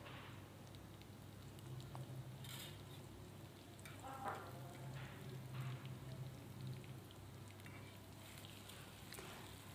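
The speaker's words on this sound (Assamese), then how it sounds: "পেঁয়াজ কুচি লাল করে ভেজে নেব।" Chopped onions frying in hot oil in a wok, a steady soft sizzle and crackle with occasional stirring scrapes, close but fairly quiet.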